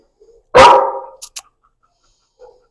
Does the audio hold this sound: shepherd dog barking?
yes